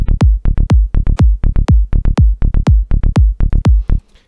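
A punchy electronic kick drum and bass groove programmed in FL Studio repeats in a steady, loud pattern, booming low hits alternating with sharp accents over about four seconds, with no talking.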